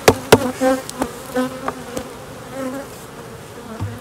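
Bees from aggressive colonies buzzing at a hive, a dense droning hum with sharp individual insects zipping close past, plus a few knocks from hive equipment.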